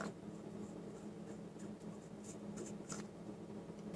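Faint, close scratching and light gritty twisting as the top of a vape tank, an iClear 30S on a Vamo V3, is unscrewed, with soft clicking threads against quiet background hiss.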